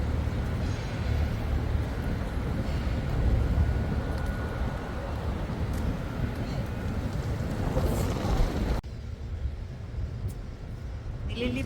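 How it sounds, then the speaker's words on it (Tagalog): Strong wind roars steadily around blossoming cherry trees outdoors, a loud continuous rush with gusty swells and no talking, dropping off abruptly near the end. "Ayan, malakas ang hangin."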